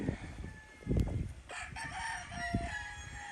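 A rooster crows at a large gamefarm with other chickens clucking nearby, the crowing clear and fairly close against outdoor farm noise, with no talk.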